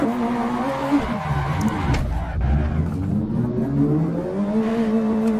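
A car engine in a driving video game revs and shifts through rising and falling pitch sweeps, loud and continuous, with brief tire noise mixed in.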